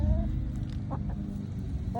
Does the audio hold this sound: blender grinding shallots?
no